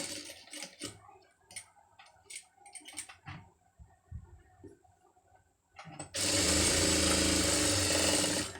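A sewing machine stitching a sleeve design starts with scattered close ticks and clicks, then runs in a loud, continuous, steady whirr for the last few seconds.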